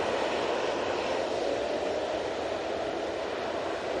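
TUI Boeing 787-9 Dreamliner inbound from Punta Cana arriving at Manchester Airport, a steady, fairly distant jet roar that holds evenly for the whole stretch with no voices.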